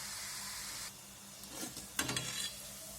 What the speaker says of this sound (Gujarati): આ રીતે મીડિયમ ગેસ ઉપર બધી તળી લેશું